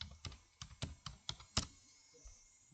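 Close, quiet clicking of keys on a computer keyboard, a quick burst of about eight taps in the first second and a half before trailing off into near silence.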